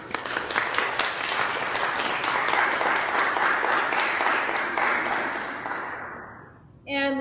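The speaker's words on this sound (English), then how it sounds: "And a little round of applause." A short round of applause from a church congregation during a Sunday service, even clapping that holds for several seconds and then fades away, with a brief ringing tone right at the end.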